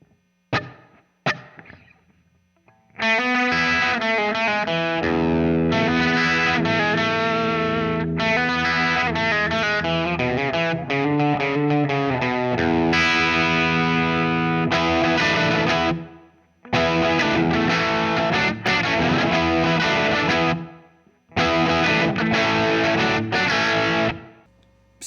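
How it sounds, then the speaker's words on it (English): Distorted electric guitar through a Wampler Pantheon overdrive and a Strymon Flint set to 70s plate reverb, playing loud sustained chords and riffs with brief pauses, the reverb tails ringing out between phrases, no voice. "I've got the Flint set on the 70s plate reverb setting."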